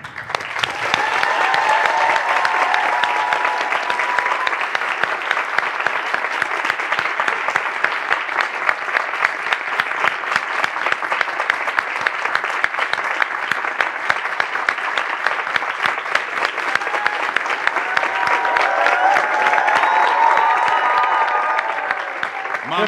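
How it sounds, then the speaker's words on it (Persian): Studio audience applauding in honor of a music master on a television comedy show, dense sustained clapping from a large crowd lasting over twenty seconds with a few faint cheers. "یک دقیقه تشویق کنن."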